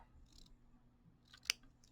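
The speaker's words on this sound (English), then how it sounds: "The scissors here and cut it off." Scissors snip off leftover quilt fabric, a single short crisp cut standing out in an otherwise quiet room with faint low background hum.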